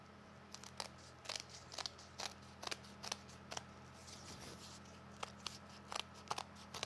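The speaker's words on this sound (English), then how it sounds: "we'll trim away the extra bits with our scissors." Repeated scissor snips slice through paper in an uneven rhythm, close by and crisp, with no voices.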